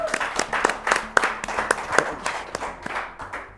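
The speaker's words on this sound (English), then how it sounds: "Let's give her a big round of applause." Sparse applause from a small studio audience at a school spelling quiz show, individual claps sharp and distinct, moderately loud, with no talk over it.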